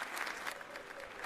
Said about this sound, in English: The crowd got excited.